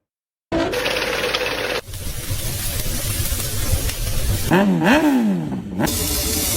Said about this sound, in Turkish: Ben motor sesinden nefret ediyorum.